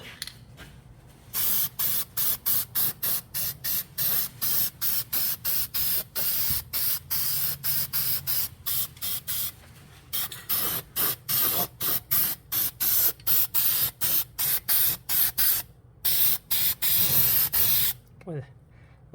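Aerosol powder coat sprays in a long run of short, close hissing bursts on a '54 GMC restomod's rear suspension parts, loud and regular with brief gaps between them.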